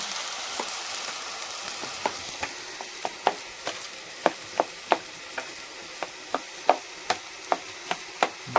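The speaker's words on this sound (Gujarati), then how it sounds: "ડુંગળી ટમેટાને આપણે પકાવીએ છીએ" Onions and tomatoes frying in a pan give a steady close sizzle, dotted with sharp clicks and pops that come at regular intervals.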